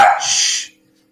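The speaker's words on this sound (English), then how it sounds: "The little dog is acting up over here." A small dog gives one short, loud, close bark indoors, sounding alone.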